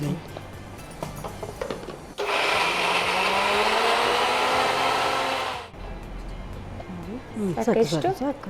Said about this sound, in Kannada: ಈಗ ತೆಂಗಿನಕಾಯಿ ಹಾಕ್ತೇನೆ, ಓಕೆ. ಒಂಚೂರು ಗ್ರೈಂಡ್ ಮಾಡಿ.